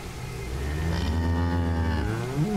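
A cow in the video game Zoonomaly lets out one long, steady, drawn-out moo, close and clear with nothing else heard.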